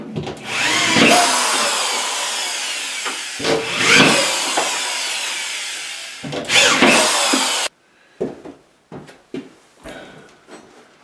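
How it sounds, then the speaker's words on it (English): A power drill drives drywall screws during a bathroom remodel, with long loud whirring bursts that stop and restart, then a few short, sharp spins at the end, up close. "So go ahead and put some drywall screws in it and get it held in place"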